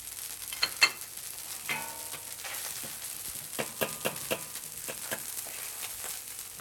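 Pork sizzling in a hot wok with ginger, garlic and scallions, a steady crackle broken by sharp scraping and clanks as it is stirred and broken up, close with no talking.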